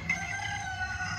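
A rooster crows once near the microphone, a short drawn-out call over a faint low background hum.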